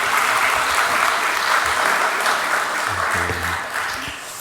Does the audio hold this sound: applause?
yes